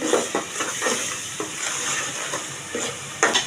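Prawns frying in a spiced paste for a Bengali bottle gourd and prawn curry, a steady hiss under repeated scraping stirs of the spoon in the pan, close and moderately loud, with no talking.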